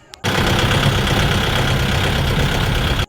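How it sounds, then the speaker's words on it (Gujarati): A tractor engine cranks by self-starter and catches abruptly, then runs at a loud, steady idle close up with a dense low throb before cutting off sharply. "મારી દીધો સેલ્ફ ને થઈ ગયા હવે હાલતા।"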